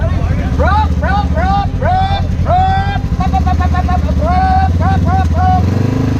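A loud, close 2020 Polaris Scrambler 1000 S ATV exhaust blats and revs in quick repeated bursts, a rough throaty sound that rises and drops over and over without pause.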